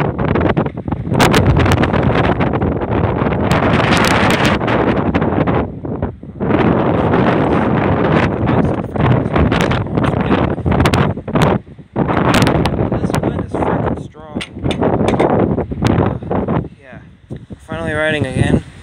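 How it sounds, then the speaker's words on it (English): Strong wind roars loudly across the microphone in long, heavy blasts while riding a bike, broken only by a few brief lulls. "Windy. It's a windy one."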